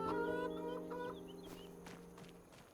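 Chickens in Farming Simulator 25 give a few soft clucks and warbling calls over a sustained humming tone, fairly quiet and fading slightly.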